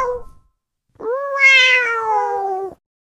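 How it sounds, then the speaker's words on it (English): A cat lets out one long, clear meow, close and loud, preceded by a brief faint sound. "Feline activity."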